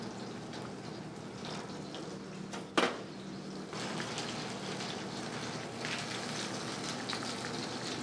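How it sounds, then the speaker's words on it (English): Red snapper searing skin side down in a hot pan, a constant soft sizzle and crackle with one brief louder clink partway through. "the red snapper skin side down to start off with. Just need to sear the skin off."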